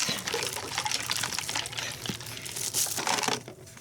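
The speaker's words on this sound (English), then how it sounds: "I had to put some more water in here." Water pours into a container of turkey brine with a steady splashing rush, fairly quiet and close, with faint crinkling and clinking alongside.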